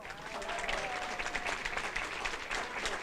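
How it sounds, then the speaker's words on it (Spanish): An audience applauds at a women's justice forum, a dense, steady patter of many hands clapping at close range that stays even for the whole stretch. "yo quiero pedir para ella un gran aplauso"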